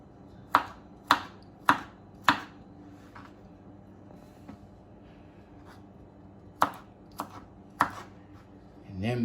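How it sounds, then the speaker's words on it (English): A knife chops zucchini into little pieces on a board: four quick sharp thuds in an even rhythm, a pause, then three more, close and crisp against a quiet background. "just chop it like that into little pieces"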